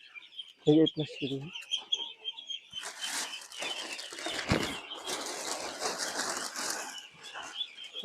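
Wings flap in a noisy rush as domestic ducks on a duck farm crowd together for feed, with chirps and clucks mixed in and a few brief calls early on.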